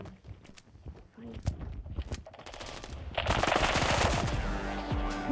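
Video game gunfire rattles in rapid bursts, opening with scattered sharp shots and then swelling into a loud continuous volley, while a player talks under the shooting.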